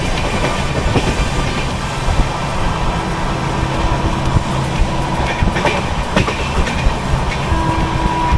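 The Netravati Express runs along the Konkan railway, heard from aboard as a loud, continuous rumble with rhythmic clickety-clack of wheels over rail joints and occasional faint squeals.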